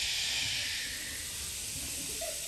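A group of children imitates a big rushing river by going shh together, making a steady, airy hiss that holds evenly at moderate volume without a break.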